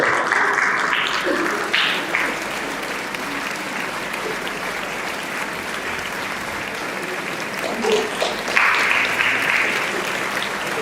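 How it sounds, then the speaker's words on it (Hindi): Steady, sustained applause from an audience at a film festival poster launch press conference welcoming a guest, loud and continuous, with brief background voices showing through. "अब आप जोर से ताली बजाएं।"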